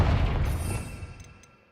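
In the Hogwarts Legacy video game, the fire spell Confringo lands as a heavy, rumbling blast. The boom fades out over about a second and a half with no talk.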